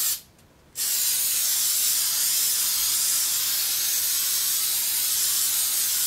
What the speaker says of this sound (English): I'm also going to spray some on this.